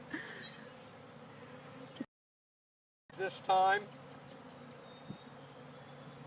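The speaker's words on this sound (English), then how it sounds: "the bees are all around my head" Honey bees buzz close around a beekeeper's head at a hive holding a new queen, a faint droning hum broken by a short gap, with someone speaking briefly.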